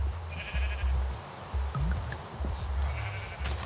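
Sheep in the Minecraft video game bleat repeatedly in short, rough calls, several overlapping in a quick irregular series, clear and close.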